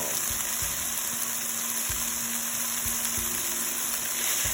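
A spinach and egg mixture sizzling in a pan, a steady close frying hiss under a faint constant tone, with a few soft low thumps scattered through it.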